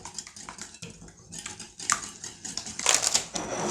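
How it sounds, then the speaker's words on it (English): Custard for a pie is whisked in a bowl, giving quick clinks and scraping taps of utensil on dish that grow busier and louder toward the end, with no talk. "But I'm going to go ahead and mix my custard up here."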